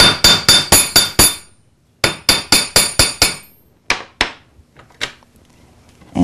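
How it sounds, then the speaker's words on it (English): Gold-filled wire is hammered into a curl on a hard surface: two bursts of six quick, ringing metallic strikes in even rhythm, then a few scattered, lighter taps, close and loud. "I'm going to hammer this and make my curl"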